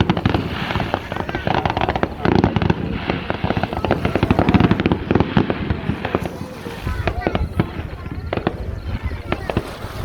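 Fireworks over Souq Waqif burst in dense, rapid crackling volleys with heavier booms mixed in, loud and continuous, while a crowd murmurs beneath.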